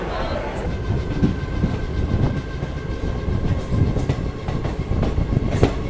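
Ranikhet Express passenger train running from the inside, a steady low rumble with faint rhythmic wheel clatter and rattling carriage noise throughout.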